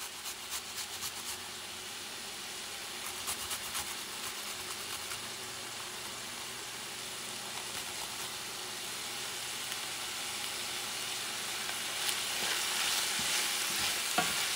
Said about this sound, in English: Then you're going to mix it up.